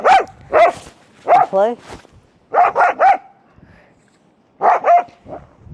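A dog barks outdoors in the snow during snowstorm aftermath in Canada, loud close bursts in pairs and short clusters with pauses, one bark stretching into a whining yip, while a person talks briefly.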